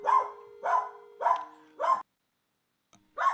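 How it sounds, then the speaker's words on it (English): A dog barks four times in a steady rhythm, loud and close, then falls quiet before one more bark starts at the end; no talking. "my dog's gonna bark for a little while"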